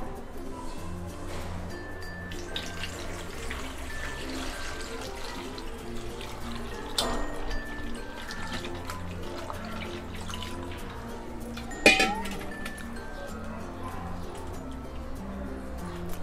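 Mushrooms being washed under a running kitchen tap, a steady close stream of water splashing into a sink with occasional clatter, no talking.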